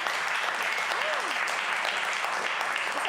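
Applause from an event audience for a pair of presenters, a continuous wash of clapping at moderate level, with a brief whistle-like tone rising and falling partway through.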